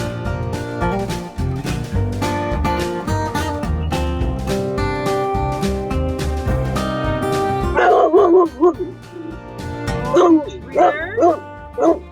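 A dog on a walk through the streets of Tombstone, Arizona gives several sharp barks and yips in the latter half, close and loud over background music.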